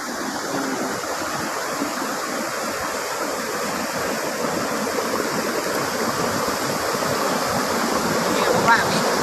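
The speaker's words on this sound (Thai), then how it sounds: "เป็นน้ำตกที่สวยงามมากครับ" Khiri Wong waterfall in Lan Saka, Nakhon Si Thammarat, Thailand, pours in a steady, dense rush of water that fills the whole clip evenly and loudly, with no break or change.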